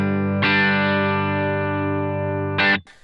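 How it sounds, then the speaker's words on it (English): An electric guitar plays a clean tone through a worship pedalboard with Kemper, HX Stomp and Strymon gear and the compressor on: one sustained chord rings evenly for about two seconds, then a second short strum cuts off. "My clean tone is like this."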